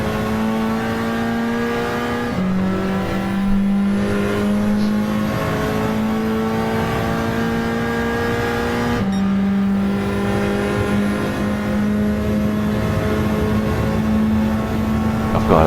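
Race car engines in the racing game Nations Deep Forest drone loudly and steadily, holding a sustained high whine that steps up and down through gear changes, with no talking.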